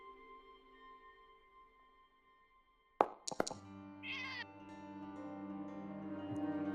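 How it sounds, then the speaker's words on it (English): A few sharp knocks and thuds, then a single short cat meow, followed by a steady low hum. "That's my sister's cat."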